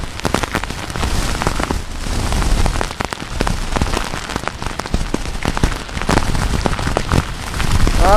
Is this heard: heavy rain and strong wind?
yes